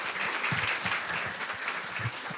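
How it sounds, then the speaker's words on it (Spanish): A small audience keeps up steady, close applause through the whole moment at a talk on creativity and animation. A few soft voices are faintly audible underneath. "Un aplauso"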